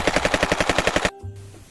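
A rapid burst of automatic gunfire, about a dozen evenly spaced loud shots over one second, followed by an abrupt cutoff into a low hum and faint background noise.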